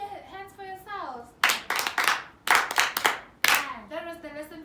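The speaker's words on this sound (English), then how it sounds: "clap your hands for yourselves" Children clapping their hands in a classroom lesson, with three short bursts of clapping between stretches of a teacher talking.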